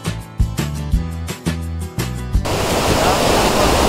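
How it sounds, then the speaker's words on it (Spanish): Rhythmic music with thumping beats cuts abruptly to loud, continuous rushing water of a mountain stream in Ordesa y Monte Perdido National Park that fills the rest of the moment. "Como veis, el agua corre, una cosa que da gusto."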